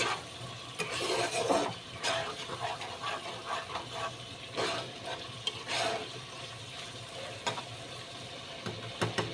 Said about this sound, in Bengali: এখানে মশলাটা আবার একটু নেড়ে চেড়ে দিই